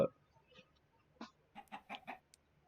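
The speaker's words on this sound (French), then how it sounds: "nous avons le poulet, notre ami le poulet" A chicken in a video game gives a quick series of four or five clucks near the end, clear and close against near silence, after an isolated earlier cluck.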